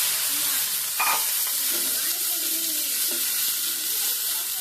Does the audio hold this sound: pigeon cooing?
no